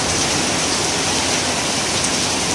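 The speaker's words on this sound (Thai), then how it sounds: "ชมบรรยากาศฝนตกไปเรื่อยๆนะครับ" Steady rain pours down outdoors along a street during a downpour, a dense, even hiss close by with no pauses and no voices.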